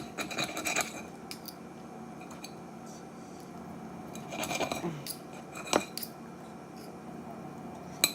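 A knife slices grilled chicken into thin strips for pitas, giving scattered soft scraping and rasping cuts in two brief clusters, near and fairly quiet over faint kitchen background.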